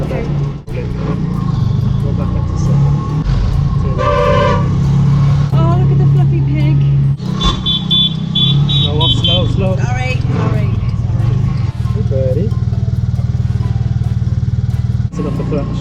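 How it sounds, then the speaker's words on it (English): A rickshaw engine runs steadily while being driven on a road in India, a continuous motor drone with some clatter, heard beneath nervous talking throughout. "Dad, I'm driving a rickshaw!"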